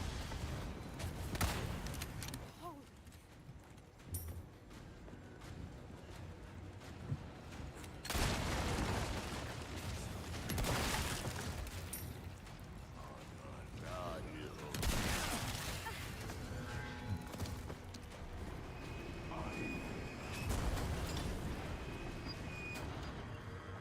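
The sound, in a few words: gunfire in the video game Resident Evil 4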